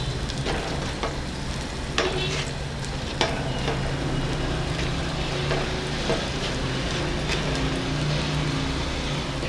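An egg fries in a thin layer of oil in a pan, giving a steady, close sizzle with small crackles and occasional pops, with no voices.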